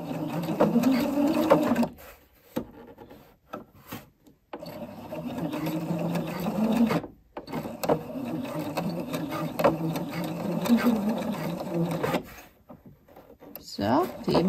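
A sewing machine runs in bursts, stitching back and forth along a high, very stretchy elastic edge on homemade children's trousers, with short pauses between runs and someone talking over it.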